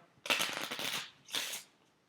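Cards from a Lord of the Rings LCG encounter deck shuffled close up, a long riffling burst followed by a second shorter one, with no talk.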